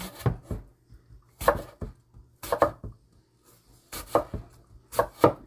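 A knife chopping kimchi into small pieces on a board, clusters of crisp, close thuds in uneven bursts with short pauses between.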